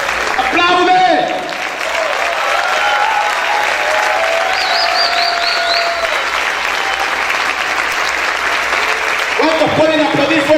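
Church congregation applauding loudly and steadily throughout, a dense wash of clapping with a preacher's voice and some music rising over it at the start and end.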